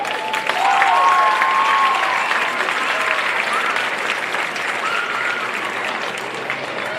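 A crowd at a high school football game between Cabell Midland and Hurricane applauds, with steady clapping and cheering across the stands and a few whistles near the start, gradually easing off.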